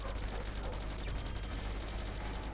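Toy blaster gunfire aimed at mummies in a warehouse level of a shooting game, a dense rapid fusillade of shots that runs without a break and stays loud throughout.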